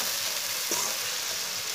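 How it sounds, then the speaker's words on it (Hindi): Green chillies and chopped tomato cook in a pan with a steady, close sizzle and a brief stir partway through, with no voices. "सब्ज मिर्चें और टमाटर डाल के 3-4 मिनट के लिए पका लेना इसे।"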